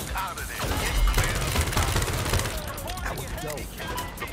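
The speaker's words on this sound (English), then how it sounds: "I love the recoil on this gun!" Rapid gunfire from a gun in Crime Boss Rockay City during a money train heist, a dense loud burst of shots running through the whole stretch with players' voices mixed in.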